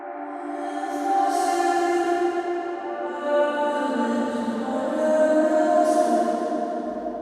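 A reversed royalty-free vocal sample drenched in full reverb swells in with rising, smeared sustained tones, washing upward to breathy peaks and then fading in a backward, ghostly bloom.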